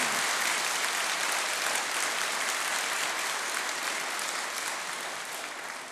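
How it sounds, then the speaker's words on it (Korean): A crowd at a church sermon gathering gives warm, sustained applause in honor of parents. The dense, even clapping fills the room at full strength and eases off slightly toward the end. "여러분 참 부모님께 뜨거운 박수, 최고의 박수를 한번 보내주시기 바랍니다"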